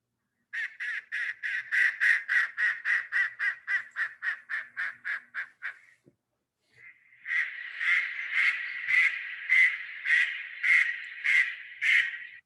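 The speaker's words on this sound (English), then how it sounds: "here's the female decrescendo call" Female duck giving a decrescendo call, a run of about a dozen quacks that fade away, then a short pause before a series of steadier, evenly spaced flight-call quacks, alone and clear.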